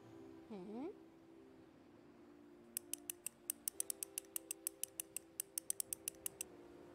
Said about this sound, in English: Why did we just get that clicking sound?